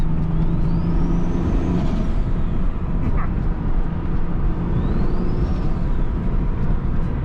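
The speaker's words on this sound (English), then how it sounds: "Since I'm driving in Turbo NSX, I gotta get a couple of sounds." A Turbo NSX car droning loudly while driving, with a dense, steady engine roar and road noise throughout, plus two rising-and-falling whistling sweeps.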